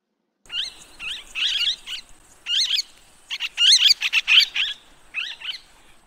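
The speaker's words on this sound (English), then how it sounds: "Parakeet." A parakeet calling, with a series of sharp, close chirps and warbling squeaks in quick bursts, some rapidly repeated, against a quiet background.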